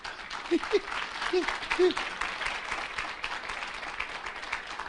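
Applause from a church congregation during a teaching on the deity of the Holy Spirit, a dense wash of clapping that runs through the whole stretch, with a voice speaking over it near the start.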